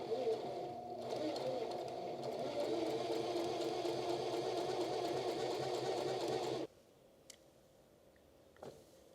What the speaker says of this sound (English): I'm gonna try to sew on one of these bad boys.